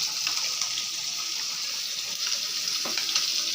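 Ghee sizzling as it is added to a fig curry (dumurer dalna) with garam masala. A steady, close frying hiss continues throughout with no voices.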